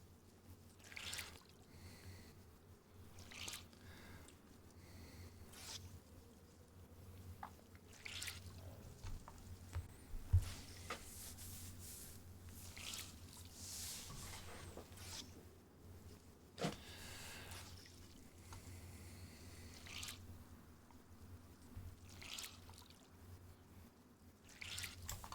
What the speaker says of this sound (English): But let's first wring our trousers.